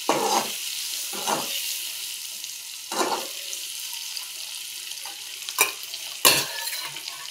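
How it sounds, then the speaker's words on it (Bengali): Spices and oil frying in a pan for Bengali egg curry, a steady loud sizzle broken by several scraping strokes of a stirring spoon, with no voices. "একটু লাল লাল করে ভেজে নেব।"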